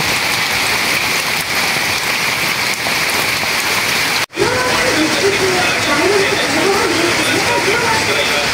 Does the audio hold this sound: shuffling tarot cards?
no